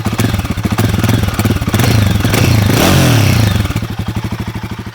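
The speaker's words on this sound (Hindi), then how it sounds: "मैं आपको पहले सुनाता हूँ गोरिल्ला का एग्जॉस्ट नोट।" Exhaust note of a Royal Enfield Guerrilla 450 motorcycle up close: a loud, choppy idle that rises into a short rev and then settles back into a throbbing pulse.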